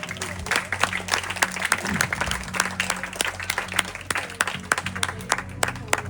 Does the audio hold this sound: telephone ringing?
no